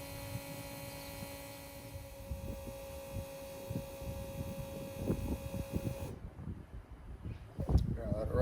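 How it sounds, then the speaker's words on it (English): An electric fuel lift pump on a Peterbilt 579 truck gives a steady, close, even hum with faint throbbing. The hum cuts off partway through, leaving irregular thumps and handling noise. "if you hear that humming, that's the actual lift pump running right now"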